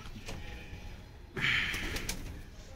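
Pigeons in a loft on a rainy day coo softly in a low, murmuring burst, joined by a brighter rustle or flutter midway through, with steady background noise throughout.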